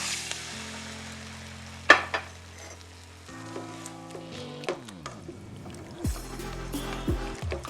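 Ketchup sauce mixture hitting a hot pan with stewed eggplant, scallion and bonnet pepper, giving a steady close sizzle and frying crackle with a few sharp clatters of utensils, no talking.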